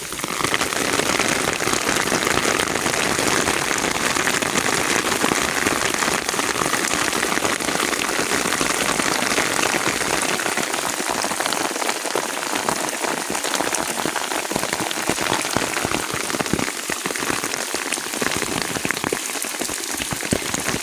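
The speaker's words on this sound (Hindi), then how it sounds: "बारिश का पानी बहुत ज़्यादा है।" Heavy rain pouring down and spilling off rooftops, a dense continuous patter and hiss of drops on surfaces, steady and loud with no voices.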